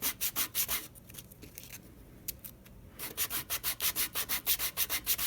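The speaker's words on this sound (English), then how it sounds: "So we're just going to sand that." Sandpaper rubs rhythmically against the edges of a small handmade square word bead, with fast, even back-and-forth strokes, a quieter pause of lighter scraping in the middle, then the steady close-up strokes resuming.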